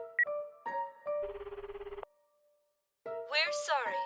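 Phone call ringing tone from the Akiba's Beat video game: short electronic beeps followed by a steady buzzing trill that cuts off, then a pause before a character's voice speaks.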